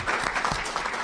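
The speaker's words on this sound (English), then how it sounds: "I will never let anything end without us giving a round of applause for the parents" A school board meeting audience breaks into brief, lively applause, a short burst of many hands clapping together in a room.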